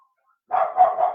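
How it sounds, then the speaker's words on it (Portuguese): A dog on the street barks once, sharply and close by, in a short doubled burst after a moment of silence. "Agora não é meu cachorro, tá? Agora é o cachorro na rua."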